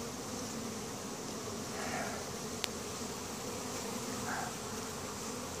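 Crowded honey bee hive giving off a constant close, thick buzz, with a brief sharp click near the middle and faint soft rustles over the steady drone.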